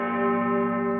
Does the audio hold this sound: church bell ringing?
yes